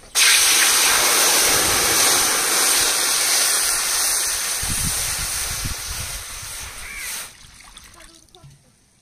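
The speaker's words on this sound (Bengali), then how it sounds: "কড়াইতে জল দিয়ে দিচ্ছি।" Water pours steadily into a kadai on a stove before biryani rice is cooked, making a loud, continuous splashing rush that fades and stops near the end.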